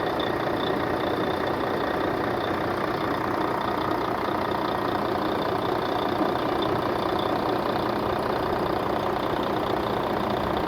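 A 2004 Volvo engine idles after sitting unused for six years, a faint, steady, even hum with a light ticking texture running throughout.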